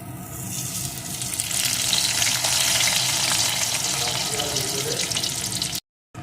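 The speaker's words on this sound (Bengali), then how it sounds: "আলুগুলোকে সুন্দর করে ভেজে নেব" Diced potato pieces fry in oil with whole cumin seeds and a dried red chilli, giving a steady, dense sizzle that swells after the first half second and holds, then cuts out briefly near the end.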